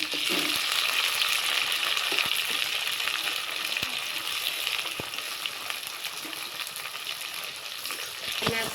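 Onions and green chillies fry in hot oil, a dense steady sizzle close up with occasional soft taps of a spoon stirring the pan.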